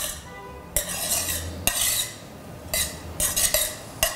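A cold rice salad with feta, green olives and tomatoes being stirred, with several bursts of scraping and clinking as a spoon works through the bowl, separated by short quiet gaps.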